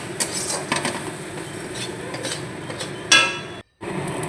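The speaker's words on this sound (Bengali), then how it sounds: "এইভাবে আস্তে আস্তে নাড়তে থাকুন।" Spoon scraping and clinking against a pan while bean mash is stirred slowly, a series of light metallic taps and scrapes with one sharper clank near the end, quiet and close.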